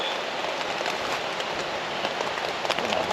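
Steady rain patters on a camping tent pitched among pine trees, a dense continuous hiss of drops with no talk.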